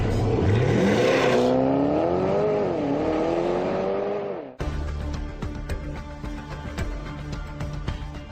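A Porsche Panamera four-door sports car accelerates hard, its engine revving up in a rising howl, briefly dropping at a gear change, then pulling strongly again, loud and close with no talk.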